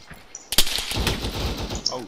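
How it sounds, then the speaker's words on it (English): Machine gun fire in ARMA 3, a sharp close shot followed by rattling bursts and echoing reports. "Alright, machine gunners, I want a base of fire at this position."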